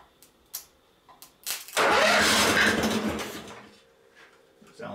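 Wood chipper engine being hotwired: a few scattered clicks and short bursts, then the engine catches and roars loudly for about two seconds before settling to a lower running sound, with faint background noise.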